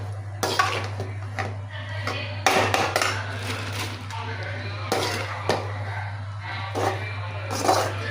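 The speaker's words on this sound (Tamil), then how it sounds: "இப்படி நல்லா கிளறி விடணும்." Utensils clatter and scrape inside a pot as food is stirred, with irregular clinks of metal over a steady low hum from the stove, while a voice talks at moments.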